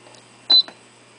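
A single short electronic beep rings out from a microwave timer in a quiet room, with a faint click just after.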